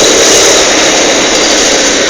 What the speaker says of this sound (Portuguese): Olha o aviãozão lá pousando lá.